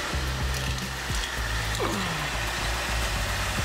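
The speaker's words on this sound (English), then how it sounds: "Start the car up. Now, while the car is running," Cadillac STS engine idling after a fuel filter replacement, a steady low rumble with a broad hiss over it, accompanied by a few faint clicks and a brief descending squeal.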